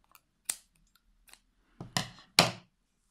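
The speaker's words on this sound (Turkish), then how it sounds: "bir tane zincirimi çekip sağlamlaştırıyorum ve makasımızla kesiyoruz" Scissors snipping crochet yarn while finishing a crocheted bolero, a few small clicks and then two or three crisp close cuts, quiet and without talk.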